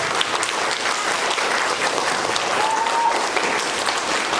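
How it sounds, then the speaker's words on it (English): Steady, dense applause from an audience at a school quarter awards ceremony, filling the whole stretch at an even, fairly loud level with no break. "big round of applause for December critical thinking"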